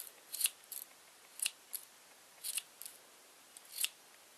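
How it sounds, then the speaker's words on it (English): Scissors snipping yarn to trim a pom pom, a handful of crisp, light clicks spaced irregularly, close but quiet against a near-silent background. "Still a few long ones here and there I want to snip off."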